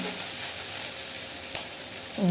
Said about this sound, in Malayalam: അതുവരെ നമുക്കൊന്ന് ഇങ്ങനെ ഒന്ന് വഴറ്റി കൊടുക്കാം.